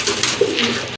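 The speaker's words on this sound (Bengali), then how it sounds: "দেখেন অনেক সুন্দর দুইটা কবুতর রয়েছে এখানে" Fancy Giribaz pigeons cooing close up, a soft continuous throaty coo lasting about a second, with no talk.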